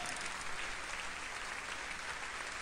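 Crowd applause in BattleBlock Theater, a steady faint wash of clapping that keeps an even level throughout, with no voices over it.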